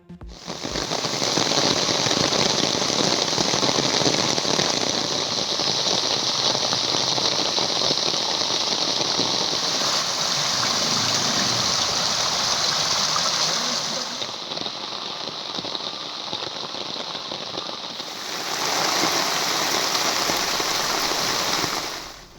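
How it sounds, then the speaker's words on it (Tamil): Heavy rain pours steadily in Tenkasi district in Tamil Nadu during a downpour, a loud, dense, continuous hiss of rain with no voices. It briefly thins partway through before returning at full strength. "தென்காசி மாவட்டத்தில் வெளுத்து வாங்கும் மழையால் மக்கள் வீடுகளில் முடக்கு"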